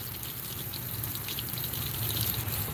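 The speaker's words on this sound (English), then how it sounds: "listen to the sound, hear that, of the waterfall" A waterfall pours steadily nearby, a dense continuous rush of water that stays even and fairly loud throughout, with no voices over it.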